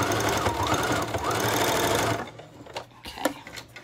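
Sewing machine backstitching a short seam on fabric for a memory bear's head, a close loud whirring run of about two seconds that then stops, leaving quieter clicks and handling sounds.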